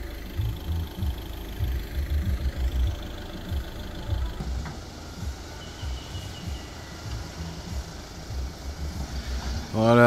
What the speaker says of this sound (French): il y a la pelleteuse qui est en train de charger le camion